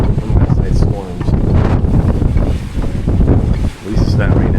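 Strong wind gusts buffet the microphone on the open deck of the Carnival Jubilee cruise ship at sea after overnight storms, a loud, rough roar with fluctuating surges and a brief lull near the end.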